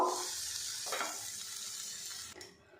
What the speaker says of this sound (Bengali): এদিকে দেখুন পটলটা কিন্তু বেশ ভাজা ভাজা করে নিয়েছি